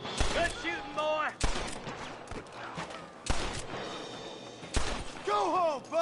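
Repeated gunshots crack out in the Western video game Red Dead Redemption, several sharp reports spaced a second or two apart over a steady bed of game noise, with a voice speaking between the shots.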